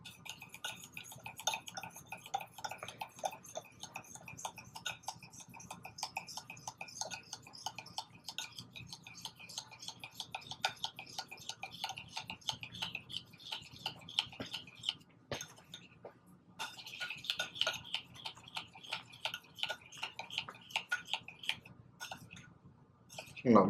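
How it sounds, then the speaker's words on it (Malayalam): An olive oil hair mask mixture whisked until frothy in a small bowl, rapid continuous clinks and scrapes of a utensil against the container with brief pauses, close and fairly quiet. "നല്ലതുപോലെ അടിച്ച് പതപ്പിച്ച് മിക്സ് ചെയ്യണം."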